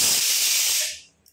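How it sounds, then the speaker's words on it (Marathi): Steam hisses out of a pressure cooker after its first whistle once the gas is turned off, a loud, bright, broadband burst that holds steady for most of a second and then quickly fades away. "एक शिट्टी झाली की गॅस बंद करून घ्यायची. वाफ काढून घ्यायची."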